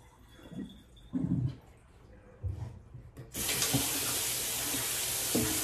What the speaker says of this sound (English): I'm letting the water out.